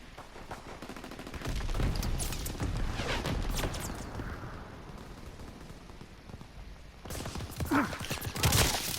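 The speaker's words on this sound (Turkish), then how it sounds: "Al işte herif bizi vuruyor" Enemy gunfire crackles almost without pause in Call of Duty WW2 on a beach, a dense, rattling wash of shots that swells, dips briefly and then builds again near the end.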